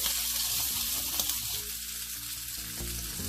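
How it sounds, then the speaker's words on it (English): Oatmeal pancake batter fried in olive oil in a frying pan gives a steady, dense sizzle close up, continuous throughout without talk. "pour about 1/4 of a cup of the batter into the frying pan."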